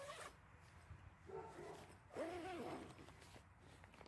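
The zipper on a Snugpak Ionosphere bivy tent is pulled in a few short, faint rasping strokes with brief pauses between them.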